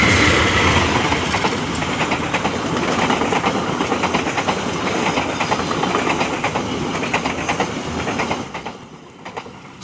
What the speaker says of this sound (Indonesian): ini dia kereta api selanjutnya yaitu adalah kereta api lokal Bandung Raya dari arah Padalarang